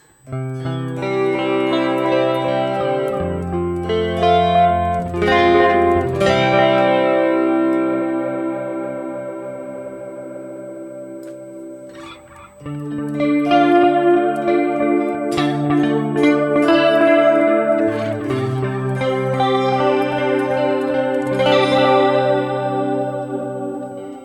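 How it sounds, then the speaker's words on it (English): Heavily distorted high-gain electric guitar through a flanger, played on a GP-200 processor, plays chords and riffs with a sweeping, swirling modulation effect, loud and saturated, with a brief pause midway. "Okay, and finally the flangers."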